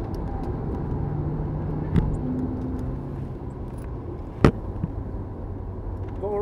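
A Porsche racing car in a video game at Brands Hatch drones behind, its engine a steady low rumble with shifting pitch, overlaid by a couple of sharp knocks, while people talk over it.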